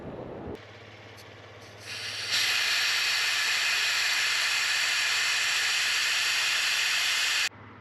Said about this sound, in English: Had to air down my tires a little bit